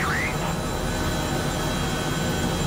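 A helicopter flies over countryside in Microsoft Flight Simulator, heard as a steady, loud whooshing engine drone that runs unbroken throughout.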